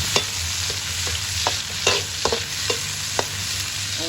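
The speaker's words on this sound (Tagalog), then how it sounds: "Lalagay na natin yung ating sibuyas." Onions sautéing in a pan for chicken tinola, a loud steady sizzle broken by several sharp clacks and scrapes of a spoon stirring against the pan.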